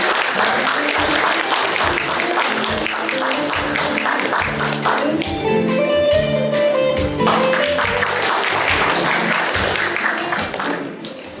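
An audience at a national Tuberculosis Prevention Day ceremony claps warmly as the health agency commissioner comes up for his commemorative speech, with stage music playing under the steady applause, which fades toward the close.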